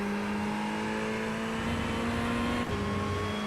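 A Ferrari 488 GT3 Evo race car at Hockenheim in iRacing accelerates through a corner, its engine a loud, steady, close-up drone of rising tone with a brief gear-change dip near the end.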